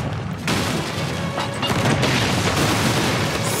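Heavy ship cannon fire in the video game Sea of Thieves booms in a dense, continuous barrage with crashing, rumbling bursts, loud and close, and no voices.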